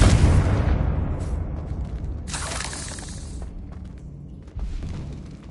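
Confringo fire spell explosion in Hogwarts Legacy, a loud blast with a deep boom and shattering debris that decays over several seconds, with a second smaller burst near the end.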